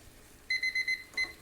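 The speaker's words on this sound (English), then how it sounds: "say 2 seconds left on the timer, but there it goes." A kitchen timer goes off while shrimp fra diavolo is being cooked, giving four quick, bright electronic beeps and then one more after a short pause, over quiet kitchen background.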